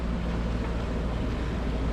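A motorboat pushes through rough seas off Fuerteventura, a constant loud engine drone and deep rumble mixed with wind buffeting and wash of waves, unbroken throughout.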